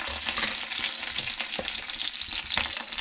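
Curry leaves fry in hot oil for a tempering, giving a loud, close, continuous crackle and sizzle with sharp pops and no voices.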